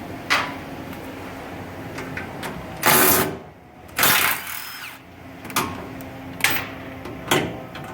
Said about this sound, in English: I'm going to go ahead and remove some of these bolts and show you how well it works